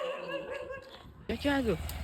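A dog gives a few short, high yelping barks close by, with a person talking just before.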